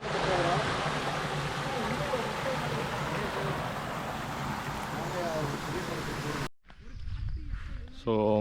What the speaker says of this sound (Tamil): அங்கே பாருங்கள், ஒரு சின்ன ஓடை மாதிரி இருக்குது